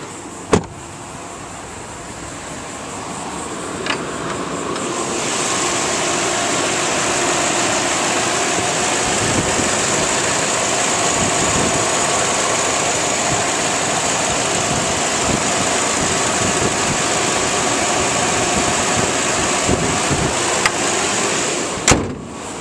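Steady idle of a 2002 Toyota Sequoia SR5, a two-wheel-drive SUV, running evenly at moderate level with a faint whine above the engine hum and a few brief clicks and thumps near the start and end.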